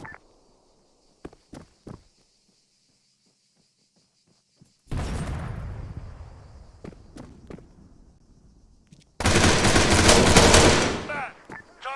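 Gunfire in ARMA 3: scattered single shots early on, then a long rolling burst of rifle and machine-gun fire, a pause, and an even louder dense volley near the end, loud and close with no one speaking.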